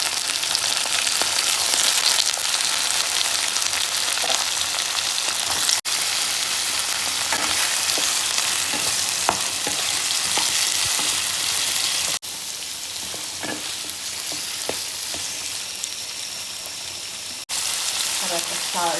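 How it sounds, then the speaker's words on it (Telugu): Onion and radish pieces sizzling in a pan, a loud, constant crackling fry close up, with occasional light stirring clicks and no talking. "ఆనియన్ ఫ్రై అయ్యే వరకు వెయిట్ చేద్దాం"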